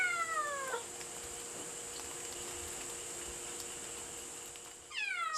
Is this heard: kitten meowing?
yes